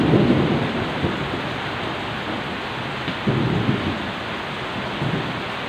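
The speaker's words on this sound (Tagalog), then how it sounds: "Maulan, umulan." Steady heavy rain pours down with low rolling thunder rumbling underneath, loud and continuous throughout with no speech.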